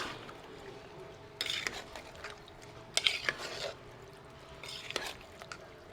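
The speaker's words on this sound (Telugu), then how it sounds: "వీటన్నిటిని ఇలా బాగా కలుపుకోవాలి" Toor dal, salt, oil and water being stirred together for a bottle gourd dal curry, heard as a few close wet scraping and sloshing bursts against a pot over quiet room noise.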